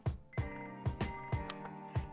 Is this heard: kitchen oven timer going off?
yes